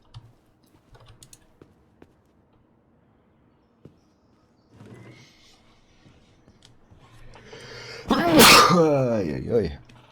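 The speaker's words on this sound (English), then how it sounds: "Finally, I got the sneeze I wanted." A single loud, close sneeze bursts out near the end, with a short trailing vocal tail, after a quiet stretch of scattered light keyboard taps and clicks.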